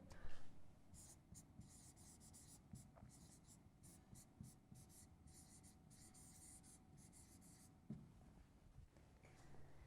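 Chalk or marker writing a word on a classroom board, a quiet, steady scratching and rubbing of strokes with short pauses between them, with faint talk in the background.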